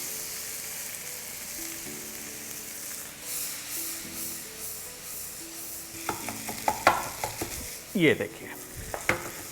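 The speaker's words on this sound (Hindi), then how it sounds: "मक्के को अब अच्छे से भूनना है।" Corn kernels tossed with turmeric, red chilli powder and salt roast in a pan, starting as a soft steady hiss and then turning to scraping stirs and sizzles. A voice speaks briefly near the end.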